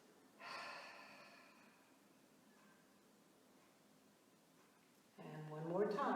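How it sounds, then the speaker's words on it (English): Deep breaths drawn in during a stretch class, a close, airy inhale that swells and fades, followed by a louder, rougher breath near the end with no talking. "And one more time, deep breath in."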